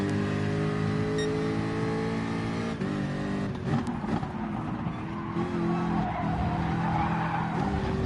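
A car in a racing video game brakes hard into a corner during a time trial, the engine droning steadily while the tires squeal and skid, loud and continuous, with the pitch shifting as it turns toward the apex.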